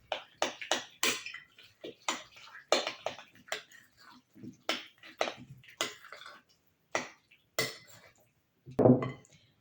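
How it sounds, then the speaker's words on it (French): A knife slices through washed tomatoes on a cutting board, producing a series of sharp, close taps and clicks in an irregular rhythm with short pauses, with no talking over them. "Ensuite, je vais découper les tomates en gardant"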